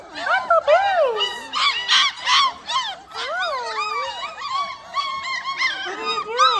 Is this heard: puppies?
yes